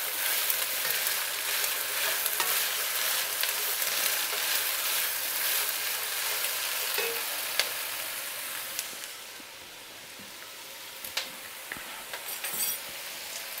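Goji berries sauté in a spoonful of hot olive oil, giving a steady, close sizzle with a few small clinks along the way and no talking.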